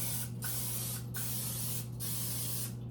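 Cooking spray hisses onto a muffin tin in three separate close bursts, each a short airy spray against a steady low background hum.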